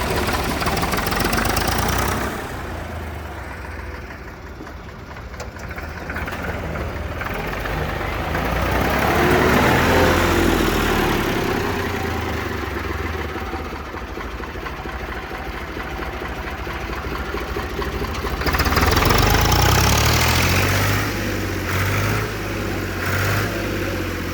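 An old HMT 3511 tractor, sold for scrap, idles steadily with a low, knocking engine rumble that swells louder around the middle and again near the end, close and continuous.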